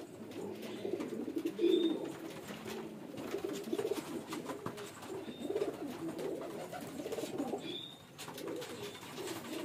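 A male fancy pigeon coos close by in a repeating low, throaty rolling pattern, with a few faint high chirps from other birds in the background.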